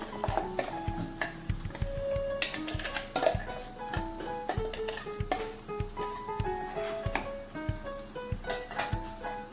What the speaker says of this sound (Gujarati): મકાઈની પેસ્ટ એડ કરીએ પછી સારી રીતે મિક્સ કરી લઈએ